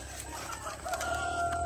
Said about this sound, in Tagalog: Nakasunod pati yung mga manok.